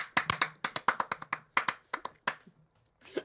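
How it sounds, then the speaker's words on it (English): A pen taps on a board in a studio, a quick irregular run of sharp, close knocks with brief pauses, tapering off near the end. "What is he tapping the pen on the board now?"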